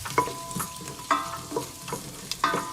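Garlic sizzles in hot oil while a utensil scrapes and stirs the pan in rhythmic strokes, close up.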